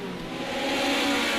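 A race car engine on a track, rising in pitch as it accelerates, loud and close, with a steady whirring roar and no voices.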